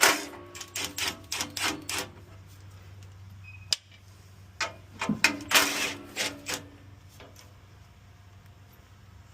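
Wrench work on the blower bolts of a Ski-Doo-style Apex 570 engine with a 7/16 socket: a quick run of close, crisp ratcheting clicks, a pause under a low steady hum, then another burst of clicks and light metallic taps.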